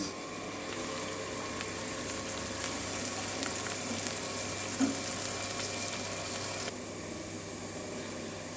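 Musakka filling of minced meat sizzles steadily in a frying pan, a constant crackling hiss at moderate level with faint pops and no voices.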